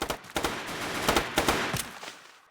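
Rapid bursts of automatic gunfire from the Special Force Group 2 shooter game, several sharp volleys and single shots across a couple of seconds, loud and close with no talk over them.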